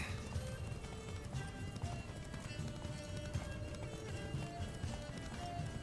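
Hooves of Geralt's horse pound in a fast, steady gallop through The Witcher 3: Blood and Wine, with continuous rhythmic clip-clop over a dense game soundscape and no speech.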